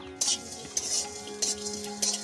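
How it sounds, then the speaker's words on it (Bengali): Cumin, dried chili and fennel seeds dry-frying in a wok, with soft scraping stirs and spoon-on-metal clinks recurring every half second or so over a faint steady background hum. "জিরা মরিচ মৌরি কড়াইতে দিয়ে একটু ভেজে নেব মশলাগুলো"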